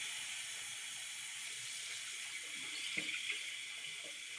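Hot tap water runs steadily into a sink while a urine reservoir is rinsed out, a continuous close hiss and splash with a few brief knocks toward the end.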